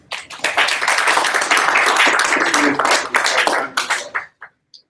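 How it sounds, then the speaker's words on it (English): Applause at an undergraduate senate session, a dense burst of clapping from a room of students lasting about four seconds before cutting off, with a few last scattered claps. "Round of applause."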